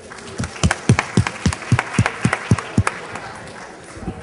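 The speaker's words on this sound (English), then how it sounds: "give yourselves a round of applause" A small audience at a policy brunch claps together, a burst of distinct, fairly close handclaps in an uneven rhythm that thins out and fades toward the end.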